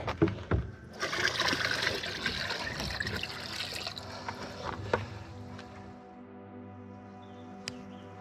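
Water splashes and pours into a tub holding live bass for several seconds, gurgling and trickling, then tapers off to drips and quiet.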